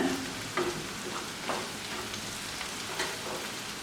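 Masala powder is stirred in hot oil in a frying pan for a potato curry, a continuous soft sizzle broken by light, periodic scraping strokes of the spoon, close and even.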